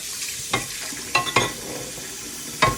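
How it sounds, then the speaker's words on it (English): Grease crackles and hisses in a smoky home kitchen pan while breakfast fries, with a low steady sizzle broken by four sharp pops spaced irregularly, close and fairly loud, no voices. "if that's hissing scared you guys, it does that a lot because of the grease"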